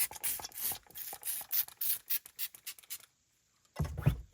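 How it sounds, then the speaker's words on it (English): Spray bottle misting a vintage leather backpack, a quick run of short bursty sprays and rubs close up, then a brief pause and one final spray. "so start on one side, take our spray bottle."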